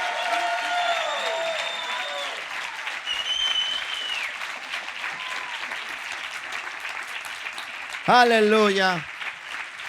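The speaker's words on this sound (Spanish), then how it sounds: "Si le vas a aplaudir, apláudele con todas tus fuerzas." Applause rolls on from a church congregation during worship, with a preacher speaking over the clapping and a loud voice rising out of it near the end.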